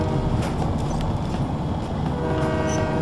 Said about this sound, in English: you got a KPA train coming up on the right track